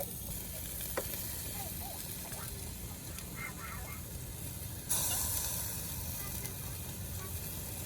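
Wagyu and ribeye steaks sizzle in a pan, a quiet steady frying hiss running throughout, briefly rising louder midway, with faint bird-like squeaks and small clinks near the start.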